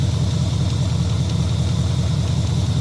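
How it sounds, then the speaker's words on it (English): The 305 engine of a Chevrolet El Camino, an old GM V8 with a slight tick, idles up close in a steady, even low rumble with no change in revs. "It's got a little tick. Not sure if that's a lifter, if that's an exhaust leak over on this side."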